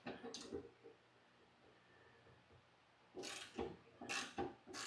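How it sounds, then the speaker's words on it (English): A SUZUME flex head ratchet wrench tightens and loosens a nut on a bolt, giving short bursts of quick close clicking separated by a quiet pause, faint overall. "this is just me tightening and loosening a nut on a bolt"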